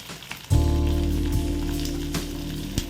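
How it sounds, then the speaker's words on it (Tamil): Curry leaves, onion and garlic hit hot oil and burst into a loud, steady sizzle that continues for a few seconds, with a couple of sharp crackles. "எண்ணெயில் இது நல்லா வதக்கணும்"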